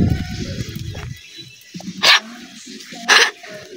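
A dog barks twice, sharp and close, with a short gap between, following muffled voices and small shuffling noises.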